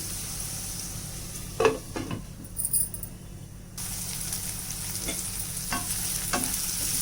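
Ivy gourd and carrot fry in a pan as a spoon stirs them, giving a steady sizzle with a few scraping strokes, close and moderately loud, no talking.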